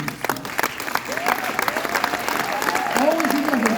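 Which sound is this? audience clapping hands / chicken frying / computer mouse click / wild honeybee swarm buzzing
audience clapping hands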